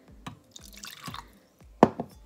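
A little water added while cleaning a beauty blender, heard as a few distinct drips and small splashes, then a louder plop near the end, close and clear in a quiet room.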